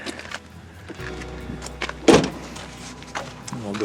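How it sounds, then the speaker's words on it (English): A residential garage door at a house under construction rolls open with a motorized hum and rattle, building to a loud clunk midway, then continuing to grind along its track, close and without talk. "open up the garage door here"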